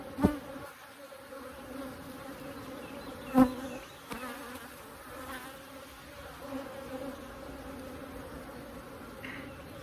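Honey bees buzz steadily around an opened Layens hive during an inspection, a soft continuous drone with a few close knocks and bumps, no talking.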